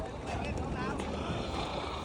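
A hired boat travelling on the sea off Thailand, with a continuous hiss of wind and water rushing past, steady and close throughout, with some voices faintly in the background.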